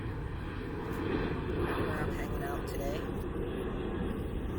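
An airplane passes over an outdoor yard as a broad, steady engine rumble and roar filling the background, while a person talks over it.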